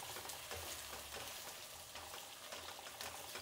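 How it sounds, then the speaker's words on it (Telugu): Sliced onions fry in hot oil for a homemade chicken fry, giving a steady, close crackling sizzle with scattered pops and no talk. "ఇప్పుడు ఆయిల్ వేడెక్కింది, ఎర్రగడ్డలు వేసేసి వేయించుకుంటే మిగిలిన పని చేసుకోవచ్చు."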